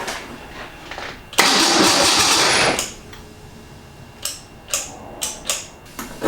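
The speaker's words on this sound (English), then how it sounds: "I was getting sufficient juice to the starter and it was turning over" A project car's starter cranks with a fresh solenoid fitted: a loud sustained whir of roughly a second and a half, then a few short separate clicking bursts, with no voices.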